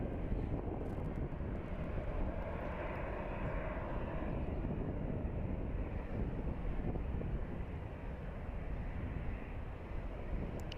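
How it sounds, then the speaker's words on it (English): An American Airlines airliner flying at Phoenix Sky Harbor airport produces a steady, broad jet-engine roar, distant and fairly faint, with wind buffeting the microphone throughout. "the flight we're looking at right now is American Airlines 2104 with services to Detroit"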